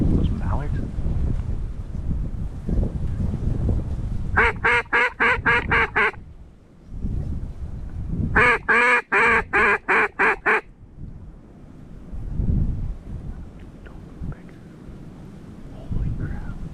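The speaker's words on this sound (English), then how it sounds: "Those mallards." Mallard ducks quacking outdoors in wind, two loud rapid bursts of repeated quacks close by, with wind noise and low voices around them.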